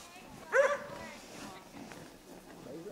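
A dog gives a single sharp bark followed by a brief whimpering whine, near and fairly faint, with quiet voices murmuring in the background.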